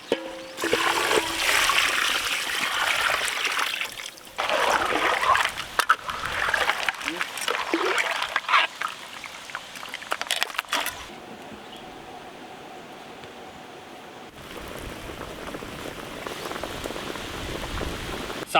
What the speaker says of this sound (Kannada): ಸಾಂಬಾರು ಚೆನ್ನಾಗಿ ಕುದೀತಾ ಇದೆ